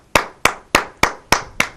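Six sharp hand claps in a steady, evenly spaced rhythm, close and crisp, with nothing else around them.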